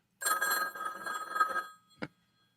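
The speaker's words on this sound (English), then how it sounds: "Then we hear the telephone again." A telephone bell rings in one long burst of about a second and a half, loud and close, then stops, followed by a short dull knock.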